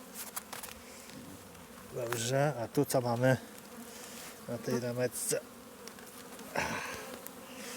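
Bees buzzing around an open hive during a spring colony inspection in March, a steady drone with louder surges as frames are lifted, under someone speaking nearby.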